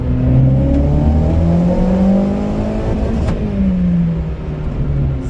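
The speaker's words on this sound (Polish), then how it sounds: "Spróbuję z wyższej partii obrotów, żeby się przypadkiem silnik nie zdziwił za bardzo" Turbocharged VW Lupo 1.4 16V engine revving in second gear, a loud close drone climbing steadily in pitch with a whining turbo edge, no talk.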